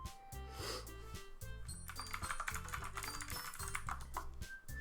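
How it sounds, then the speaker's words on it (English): Rapid, clicky mechanical keyboard typing during a game stream, a steady patter of keystrokes mixed under louder rhythmic background music, with no talking. "Hope you don't mind the sound of my clickety-clackety mechanical keyboard."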